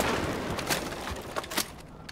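The Judge shotgun fires in a video game, giving a few sharp blasts over a dense wash of game noise, loud and close within about two seconds.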